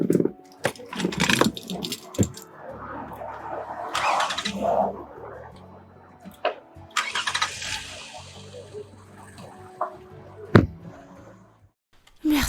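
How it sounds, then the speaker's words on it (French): A car engine cranks and starts in bursts, with loud broadband surges and quieter idle stretches between them, and a few sharp knocks along the way. "Tu peux démarrer la voiture?"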